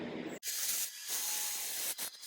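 Wood lathe spinning a cracked black walnut bowl at higher speed, a steady close hiss of the tool cutting with brief breaks as contact is lifted.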